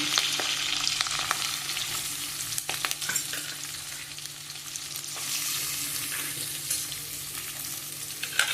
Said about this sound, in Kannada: ಈರುಳ್ಳಿ ಚೆನ್ನಾಗಿ ಫ್ರೈ ಆಗಲಿ